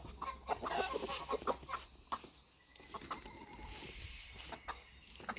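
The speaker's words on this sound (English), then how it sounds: "Oh, it's a gang of chickens." Several chickens clucking on a farm, a loose group of birds close by with busy overlapping calls and short bursts, heard alone with no talking.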